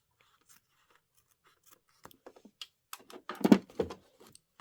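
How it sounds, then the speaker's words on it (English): Scissors snip away fabric seam allowance to a quarter inch while finishing a quilted Christmas embroidery project, a series of short crisp cuts building to a louder cluster near the end, close and clear with no talking. "So you're going to snip this away so it's about a 1/4 of an inch."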